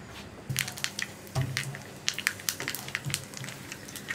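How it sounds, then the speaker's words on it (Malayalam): Mustard seeds burst in hot coconut oil in a pan with a quick run of sharp crackles and pops, close and fairly faint, and no voices. "കടുക് പൊട്ടിക്കൊണ്ടിരിക്കുന്നുണ്ട്"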